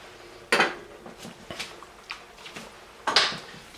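A spoon clinks and scrapes against a pot while stirring a bacon jam mixture of vinegar, brandy, Dijon mustard and honey: a few sharp metallic knocks, the loudest near the start and end, with softer scrapes between.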